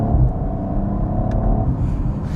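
2019 Audi RS5 Sportback with quattro accelerating hard in third gear, heard from inside the cabin. A dense, close engine rumble and drone runs steadily throughout, with no talking.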